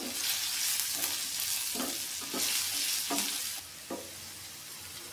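Green chillies fry in hot oil in a pan, a loud, dense, continuous sizzle with a few spatula scrapes. The hiss drops slightly toward the end.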